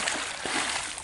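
A magnet thrown into a river lands with a brief, close watery splash, a quick splatter against moving river water.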